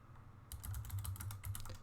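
Rapid keystrokes on a computer keyboard while entering a command in a Manjaro Linux terminal, starting after a short quiet pause and continuing as a close, steady run of sharp clicks over a low hum.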